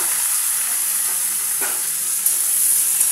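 Flat beans and eggplant fry in hot oil, giving a steady, loud, close sizzle and hiss throughout with only slight swells and no voices.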